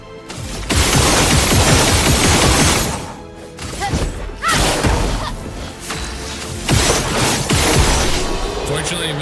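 Loud bursts of AK-47 automatic gunfire from the video game Expedition 33, sustained rattling volleys with crashing impacts and booms, pausing briefly then resuming in repeated bursts across the stretch.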